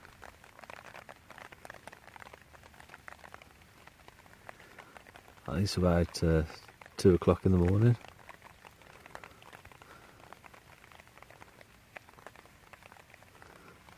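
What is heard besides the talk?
rain at night during wild camp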